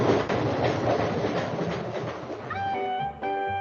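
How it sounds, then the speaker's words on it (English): Train rolling through rice paddies near Dongli station in Taiwan, a steady rumbling rail clatter that gives way to bright sustained horn-like tones toward the end, with no speech. "the glimpses of the trains making their way through the rice paddies"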